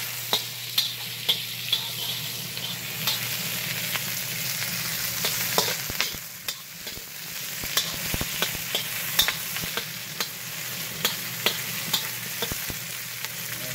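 Lemongrass, carrots and onions fry in a pot, giving a steady soft sizzle broken by repeated sharp clicks and scrapes of stirring, fairly quiet with no talking.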